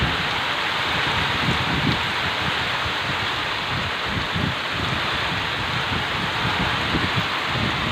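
Heavy rain with strong wind pours down steadily and loudly outdoors, a dense continuous roar of drops and gusts with no voices.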